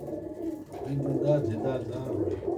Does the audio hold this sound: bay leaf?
no